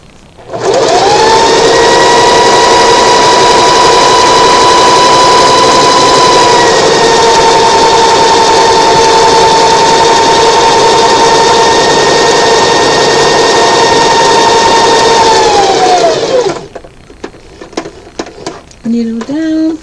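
Sewing machine running steadily for about sixteen seconds while top stitching a handkerchief with decorative stitches, a loud continuous motor whir that slows and stops, followed by faint handling clicks.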